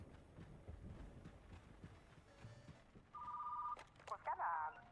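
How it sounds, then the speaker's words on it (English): A phone rings in a video store game, a short electronic trill arriving late and fairly loud over soft background noise and quiet talk. "Oop, there's the phone."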